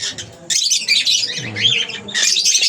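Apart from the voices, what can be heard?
Indian ringneck parakeet call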